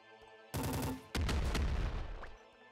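Gatling Mini Nader from the roguelike shooter Nuclear Throne: a loud, dense burst of rapid-fire shots, a brief pause, then a second, longer booming volley with explosive low rumble, no talk over it.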